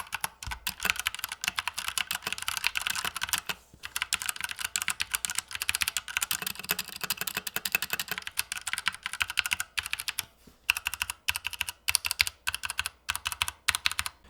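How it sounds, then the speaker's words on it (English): Fast, continuous typing on a Redragon K530 mechanical keyboard with tactile brown switches, dense close clacking keystrokes with a few brief pauses, quiet and alone. "This board uses brown mechanical switches that provide tactile feedback, but without that audible click sound that you'd expect from a blue switch"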